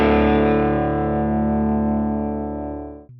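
Distorted electric guitar through a BOSS IR-2 pedal with the gain turned up: one thick, sustained crunchy chord ringing out for about three seconds and fading before it is cut off, heard alone.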